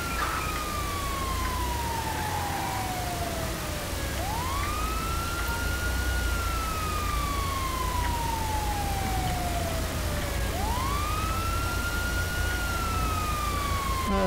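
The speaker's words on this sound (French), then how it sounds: "On va arrêter les sirènes" Police and fire truck sirens wail in a GTA V LSPDFR police game, a loud steady rise-and-fall tone that sweeps down slowly and then jumps back up, repeating over a constant engine and road rumble with no talking.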